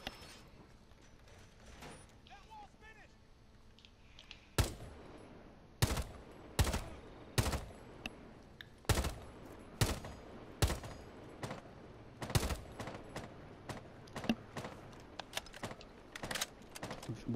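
Gunfire in Rainbow Six Siege, heard as a quiet opening followed by a series of sharp, loud shots in quick bursts and single cracks, fairly close and repeating irregularly to the end.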